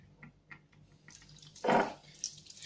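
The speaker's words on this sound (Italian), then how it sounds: "si pulisce tutto sotto l'acqua" Juicer parts, the cylinders of an Angel Juicer, are rinsed under running water from a sink tap, with a few quiet drips and clinks followed by a short louder splash and gush near the end.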